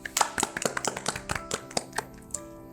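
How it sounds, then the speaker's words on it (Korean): A few people clap during a church Bible study for youth. The claps are sparse and uneven, with a soft tonal background hum beneath them. "박수!"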